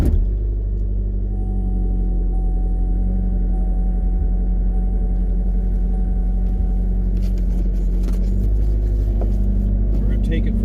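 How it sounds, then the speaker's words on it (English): A 2007 Pontiac Solstice GXP engine idles with a steady low rumble after starting, close and continuous, with some handling noise and clatter toward the end. "I'm going to start the car, and you're going to hear it starts up beautifully."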